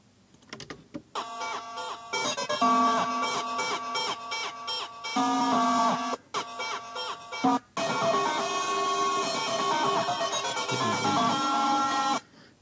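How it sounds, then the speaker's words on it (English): A buzzer sound recorded off a radio and looped into a synth-like drone, loud and continuous in choppy bursts with brief dropouts, then sustained steadily toward the end. "The buzzer. Yeah, I looped that. And I use that as my synth."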